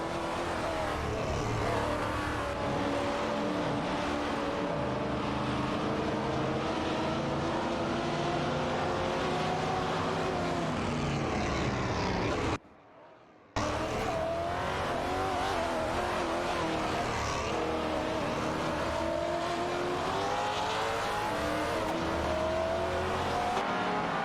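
Race cars in a racing video game roar continuously, with engines rising and falling in pitch as they accelerate and pass. The sound cuts out briefly halfway through, then the same steady racing drone returns.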